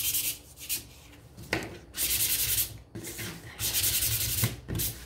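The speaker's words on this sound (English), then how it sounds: "by now these should be dry, so you can go ahead and give these a sand." Dried wooden windmill pieces for a farmhouse shelf sitter are sanded by hand, giving close, rhythmic scratchy strokes in bursts of about half a second to a second with short pauses between.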